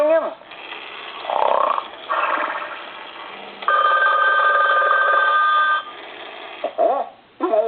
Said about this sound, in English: Did you hear something ringing?